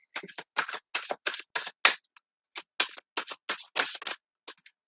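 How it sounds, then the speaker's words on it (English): Rapid bursts of crisp riffling and flicking, like a deck of cards being shuffled by hand, in several quick runs separated by short pauses. "let me just give it another shuffle"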